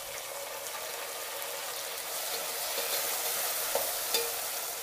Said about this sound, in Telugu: ఉల్లిపాయ ముక్కల్ని వేయించుకోవాలి.